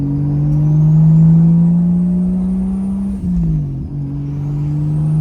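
Toyota Supra with a single turbo conversion pulling hard through the gears, a loud steady engine drone rising in pitch, dipping briefly at a shift and climbing again, heard close with no talk.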